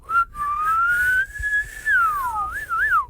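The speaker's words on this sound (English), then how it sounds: "And then can you whistle in?" A person whistles a short, wavering tune up close, the clear tone sliding up and down and fluttering at the end, with no talking over it.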